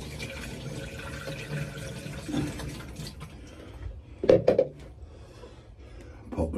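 Water runs into a container inside an Auto Trail Expedition 67 pop-top camper van, a soft steady trickle that swells into a louder splashing gurgle near the end.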